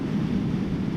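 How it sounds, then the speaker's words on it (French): Constant low, rumbling wind buffeting a motorcycle helmet microphone on a windy day, steady and loud throughout the short clip with no voices. "il y a beaucoup de vent aujourd'hui"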